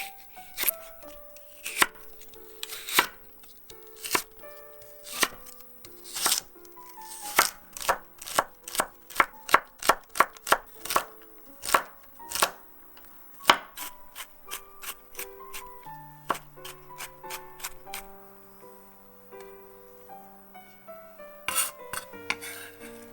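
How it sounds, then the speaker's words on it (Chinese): A knife chops celery, onion and anchovy into small dice on a cutting board. Crisp, rapid taps come in uneven bursts with short pauses, close and clear, and no voices are heard. "先将芹菜、洋葱、鯷鱼切成细丁"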